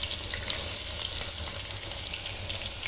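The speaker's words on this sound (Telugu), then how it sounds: "ఇది బాగా వేయించుకోవాలి ఫ్రెండ్స్" Onions frying in hot oil with green chillies for mango chicken make a dense, steady, hissing sizzle close by, unbroken from start to finish and without any voices.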